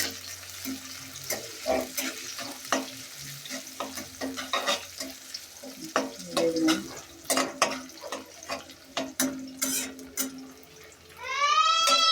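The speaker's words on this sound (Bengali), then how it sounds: "তেজপাতা দিয়ে দিলাম এলাচ দিয়ে দিলাম আর হইল দারচিনি দিয়ে দিতেছি" Bay leaf, cardamom and cinnamon frying in a pan, a crackling sizzle under frequent sharp clinks and scrapes of stirring, with a brief tonal sound at the very end.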